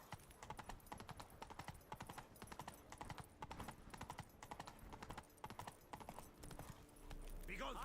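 In The Witcher 3, a horse trots with quick, steady clip-clop hoofbeats close by, followed by a louder rushing sound at the end.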